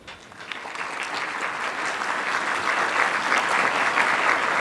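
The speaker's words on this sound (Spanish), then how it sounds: "recibimos con un caluroso aplauso" A conference audience at a tax law conference gives a warm round of applause welcoming a speaker, the dense clapping swelling steadily louder over the stretch.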